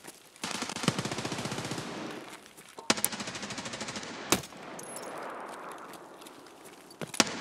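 M4 rifle firing in the video game Escape From Tarkov: loud, rapid automatic bursts, one long volley, a short crack, then a second sustained volley and a few scattered shots, with no talking.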